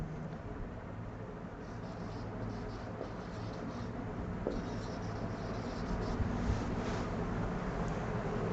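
Handwriting the conclusion of a physics lesson on electromagnetic induction, a soft continuous scratching of pen or chalk under steady background hiss, close and quiet with no talk.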